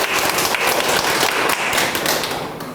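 An audience of young people at a peer lecture event claps in a full, steady round of applause that starts strong and gently tapers off at the end, with no talking over it.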